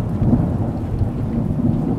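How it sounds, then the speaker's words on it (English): Steady rain patters down on a boat in the Bahamas in a dense low rumble, a continuous wash of drops with no voices, fairly loud and close throughout. "starting to rain."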